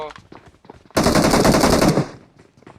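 Rapid automatic gunfire in the mobile battle royale game PUBG Mobile, a loud sustained burst of about a second, with brief talk before and after it.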